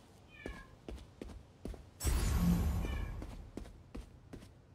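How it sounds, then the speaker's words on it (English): Short, high cat meows come from Spider-Man 2 gameplay, heard faintly around a loud burst of rushing noise, with light footsteps and thumps in between. "I hear Georgie just meowing."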